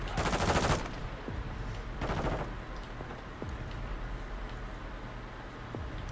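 Turret firing in the video game Modern Warfare 2, two loud bursts of rapid automatic gunfire separated by a pause, followed by scattered fainter shots and steady low game rumble.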